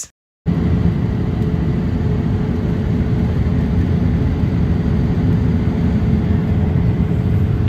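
Airplane cabin during the descent into Stockholm: a loud, steady, low engine and air roar fills the cabin without a break, after a brief silence at the start.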